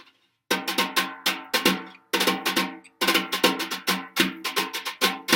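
A snare drum pattern played with wire brushes: a quick run of crisp strokes in short bursts with brief pauses, each hit ringing out with open drum resonance, close and loud.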